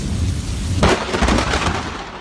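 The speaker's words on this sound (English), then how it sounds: "lightning appears very close to the filming location during a storm" A close thunderclap from a storm in eastern Illinois cracks and rumbles loudly over a steady, dense hiss of falling rain.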